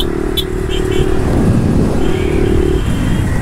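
A Honda Twister motorcycle engine runs loud and close, revving with a steady droning tone as the bike sets off, while a voice speaks briefly over it.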